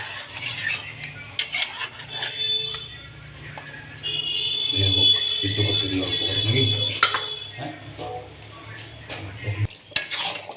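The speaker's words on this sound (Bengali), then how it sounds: "খুন্তি নেড়ে নেড়ে এরকম জল দিয়ে মাংসটাকে নাড়ছে, একদম থলথল থলথল করছে, সাউন্ড করছে" A spatula stirs chicken curry with water in a metal pot, scraping and clinking repeatedly with wet, sloshing churns, fairly close and steady, as a voice talks over it.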